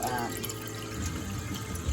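Water runs from a tap into a pot in a kitchen, a steady soft splashing stream heard up close and fairly quietly throughout.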